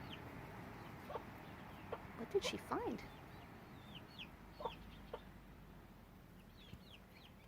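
Backyard chickens cluck softly in scattered, brief calls at a moderate distance on a calm day, with a short burst of louder clucking near the middle and a person briefly speaking over them.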